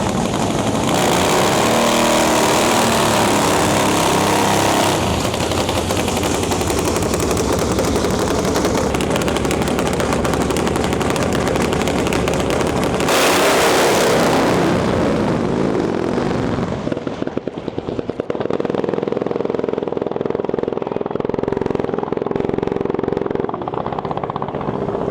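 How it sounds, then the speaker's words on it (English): Nitro-fuelled Top Fuel Harley-Davidson drag bikes roar loud and close at a drag strip, a dense unbroken thunder of racing engines for about fifteen seconds before fading into a lower, rougher drone. "We got Top Fuel Harleys in the house."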